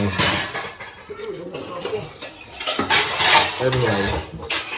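Dishes, pots and utensils clanking and clinking while being washed in a home kitchen, irregular close metallic knocks and scrapes, with people talking in the background.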